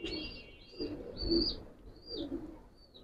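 A big Giribaz pigeon coos close by, giving several soft, throaty rolling coos in a slow rhythm against a quiet background.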